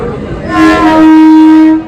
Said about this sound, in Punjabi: 1:33 ਮਿੰਟ ਤੇ ਸਾਡੀ ਟ੍ਰੇਨ ਪਹੁੰਚੀ ਆ ਹਜੇ